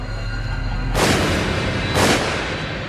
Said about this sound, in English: But then he heard a gunshot.